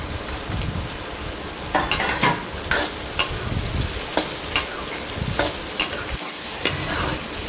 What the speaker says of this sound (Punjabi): ਆਪਾਂ ਪਾ ਦਾਂਗੇ ਪਿਆਜ਼ ਤੇ ਆਲੂ ਇਹਨਾਂ ਨੂੰ ਵੀ ਭੁੰਨ ਲਾਂਗੇ ਆਪਾਂ ਚੰਗੀ ਤਰ੍ਹਾਂ